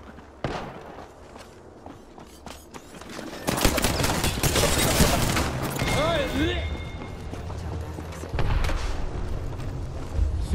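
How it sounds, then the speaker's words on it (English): Bursts of automatic gunfire and footsteps fill an Apex Legends match, the shooting dense and loud in the middle, with scattered impacts and movement around it; a voice talks over parts of it. "Synchronized shooting took me down with the ease."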